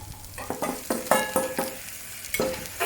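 Bacon fried rice stir-fried in a wok over high heat, with loud crackling sizzle and a quick series of sharp spatula scrapes and tosses against the metal, close and without speech.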